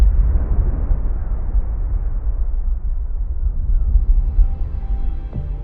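Ocean waves rendered as they would sound in the thin Martian atmosphere: a deep, muffled, continuous rumble with the bright hiss of surf stripped away, steady and fairly loud with no voices.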